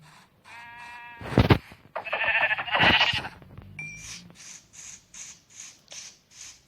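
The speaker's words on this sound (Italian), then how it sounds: "Mazziamo sta pecora." A sheep in Minecraft bleats in short game-sound cries, mixed with sharp hits and clattering effects, followed by a run of softer repeated bleats.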